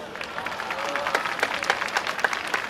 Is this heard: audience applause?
yes